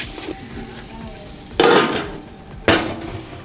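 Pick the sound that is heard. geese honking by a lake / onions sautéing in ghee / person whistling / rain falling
onions sautéing in ghee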